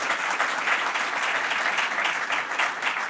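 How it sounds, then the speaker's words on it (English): Audience applause at a New York state economic development announcement, steady and dense across the whole stretch with no break, a broad wash of many hands clapping in a hall. "So let's give another round of applause to our County Executive"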